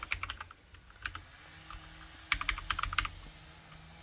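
Keys clatter on a computer keyboard while a command is entered in Rhino 3D modeling software, in two close bursts of rapid keystrokes separated by a quiet pause, with no talk.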